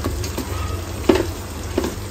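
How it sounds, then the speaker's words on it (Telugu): Tomatoes dropping into hot oil in a pan for chicken curry give a steady low sizzle, with a couple of brief stirring scrapes and a soft clatter standing out near the end. "ఇప్పుడు టొమాటోస్ వేస్తున్నాను."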